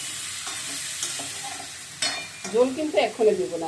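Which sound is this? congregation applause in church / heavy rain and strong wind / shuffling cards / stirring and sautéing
stirring and sautéing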